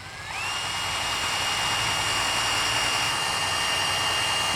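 A power drill pre-drills three holes in a boat transom for mounting a transducer, its motor spinning up quickly and then holding a steady, loud whine close by with no talk.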